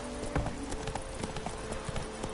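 Horse Roach in The Witcher 3 video game, hooves clip-clopping in a quick steady rhythm close by, with a little background ambience.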